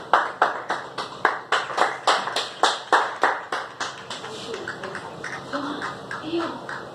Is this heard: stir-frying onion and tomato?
no